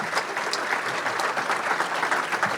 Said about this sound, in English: Let's give a big thank you and another round of applause for these members